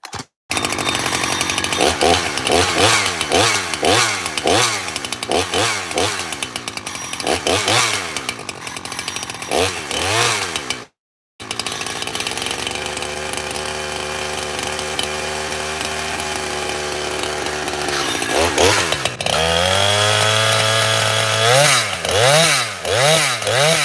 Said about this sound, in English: That noise is the washer rubbing against the E-clip. That's what that noise is.